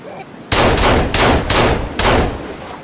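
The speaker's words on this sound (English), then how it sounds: "let's try to shoot this guy in the head" Five sharp gunshots ring out in quick succession in Sons of the Forest, each a loud crack with a short decaying tail, spaced about half a second apart.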